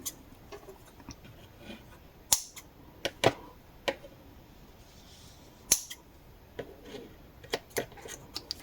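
Scissors snipping through loops of cord in a scattering of sharp, close clicks and snips at irregular intervals over a quiet background.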